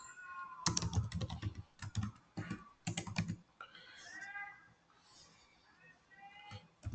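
Computer keyboard typing during an SAP MM demo, with quick clusters of close keystrokes separated by short pauses, then quieter faint clicks over a background hum.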